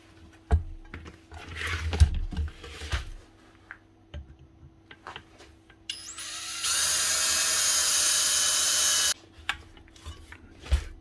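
Scattered clicks and taps give way to a loud, high-pitched power drill whine for a few seconds as it drills hard metal on an angle grinder, then it stops and the tapping resumes.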